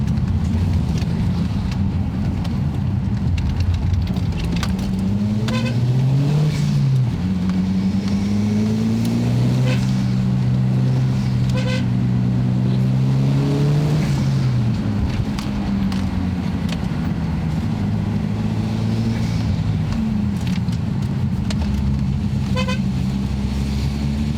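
Onboard a limited-series Ford Focus RS rally car, the engine drones steadily with rising and falling revs and shifting tones across the run, close and continuous with little else over it.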